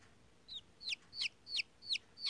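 Chickens of Polish and Showgirl breeds give six quick, evenly spaced clucks, each a short sharp chirp-like note, moderately close over a quiet background.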